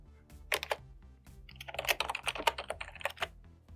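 Typing a folder name for an email folder on a computer keyboard: a quick run of crisp key clicks in uneven bursts, close and clear, with no voices.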